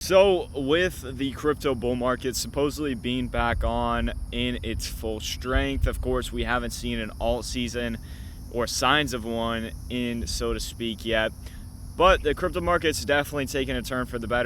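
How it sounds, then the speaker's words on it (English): Cicadas buzz outdoors in a loud, steady, high drone that never lets up while someone talks continuously close to the microphone. "There's cicadas."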